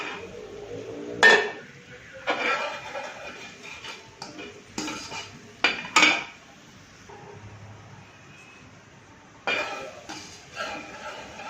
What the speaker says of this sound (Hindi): नमक और काली मिर्च मिक्स करेंगे अच्छी तरह।